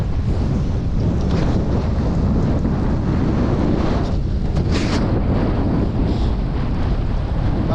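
Strong wind blowing against the current buffets the microphone over choppy river water sloshing nearby, a constant roar with brief louder gusts and no talking.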